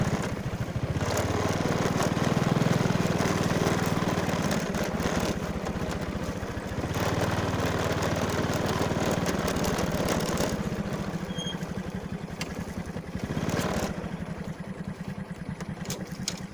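A motorcycle engine idles with a steady rumbling throb, loud and close, its tone shifting slightly a few times, outdoors near a wild fishing spot.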